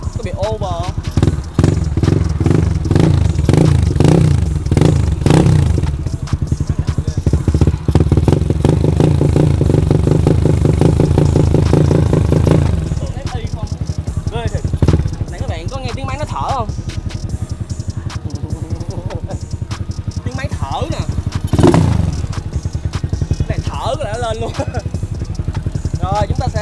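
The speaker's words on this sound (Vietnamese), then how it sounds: "Nghe đúng cái tiếng chán ga của cái bình xăng con" A Honda Sirius motorcycle with a four-valve head, a 58 mm bore kit and a carburetor revs hard and loud up close for about thirteen seconds. It then settles to a rougher idle while someone talks over it.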